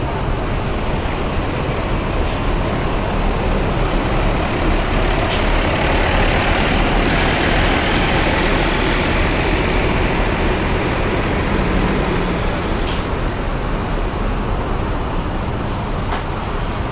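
A Mercedes-Benz OH 1626 bus with air suspension gives a loud, steady diesel engine drone close by, with several short hissing bursts of air brakes scattered through the run.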